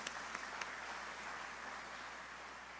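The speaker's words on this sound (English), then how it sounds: "And I just want to give both Danny and Julie a big round of applause for all that they've done to make this come to life." Steady applause from an audience at a student art competition award ceremony, broad and continuous throughout with a few sharper claps near the start, no voices over it.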